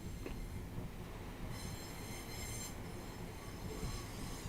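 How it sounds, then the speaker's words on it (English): A passing train in the Train Simulator game, on the Chatham Mainline, rumbles steadily with a dense rolling roar and a high wheel squeal, loud and continuous throughout. "There's another train."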